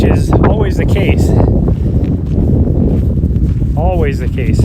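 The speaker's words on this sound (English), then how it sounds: "It's so windy up here, which is always the case." Strong wind roars and buffets the microphone in heavy low rumbles on a mountain top on the Continental Divide while a person talks over it.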